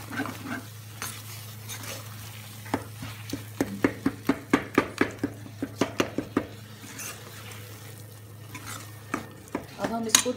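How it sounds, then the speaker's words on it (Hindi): A spoon stirs a garam masala spice mixture in a pan, scraping and knocking in quick rhythmic strokes over a faint steady sizzle and hum, with a brief pause before more stirring. "अच्छे से इसको मिक्स करेंगे।"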